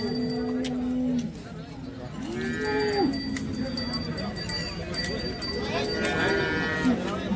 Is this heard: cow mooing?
yes